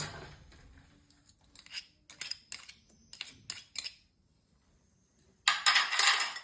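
Nutmeg is grated over tilgul laddu mixture of sesame and jaggery, producing a run of quick rasping scrapes in short clustered bursts, followed by a louder stretch of rough scraping at the end.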